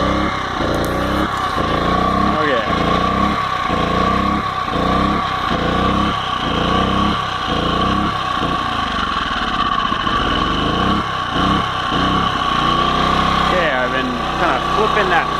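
A Champion 1200 watt portable generator engine runs steadily right after its first start, a loud close buzzing drone with a rhythmic pulsing beat throughout.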